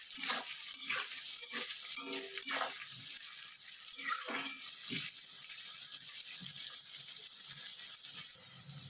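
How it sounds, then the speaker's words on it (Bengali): Capsicum and onion fry in a pan for rohu chilli fish, giving a steady close sizzle with repeated clattering stirs and scrapes of the spatula. "এবার দিয়ে এটাকে একটু ভালো করে ভেজে নেব।"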